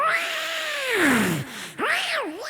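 On a comedy stage, a man imitates a cat meowing with two drawn-out meows. The first slides slowly down in pitch and the second swoops down and back up. Both are loud and close, with no other talk.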